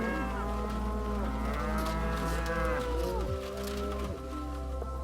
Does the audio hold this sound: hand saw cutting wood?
no